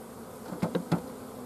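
Honey bees buzz at an open hive during a winter brood check, a low drone with a few brief, louder buzzes from bees passing close.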